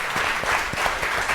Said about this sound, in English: Let's give that one a round of applause.